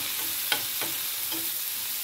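Boiled egg bhurji with turmeric, chilli, coriander powder and garam masala is stir-fried in a pan, a steady loud sizzle broken by several brief scraping strokes of the spatula.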